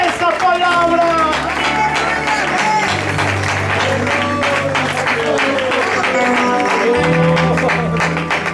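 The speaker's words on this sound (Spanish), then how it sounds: "Alguien aplauda a Dios en esta mañana" A church congregation applauds in a morning service, clapping mixed with shouts and cheers under loud, sustained music with a strong bass line, the whole scene dense and continuous.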